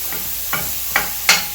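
Ground turkey frying in a pan while being broken up, a steady close sizzle punctuated by three short scraping pushes of a utensil.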